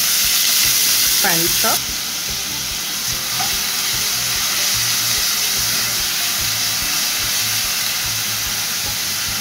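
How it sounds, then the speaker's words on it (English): Chopped onion hits a generous amount of hot oil and fries in a pot for curry turkey wings, a loud, steady sizzle and hiss with a brief spoken voice over it. "I'm going to add a generous amount of oil. That should be good enough. I'm going to add 1 onion,"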